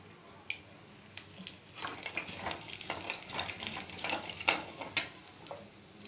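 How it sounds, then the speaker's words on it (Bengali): Mustard and cumin seeds tempering in hot oil for chicken do pyaza, a soft crackling sizzle with scattered pops and faint utensil clinks, moderately close and steady over six seconds, no talking. "এখানে সর্ষে আর জিরে ফোড়ন দিলাম তেলের মধ্যে"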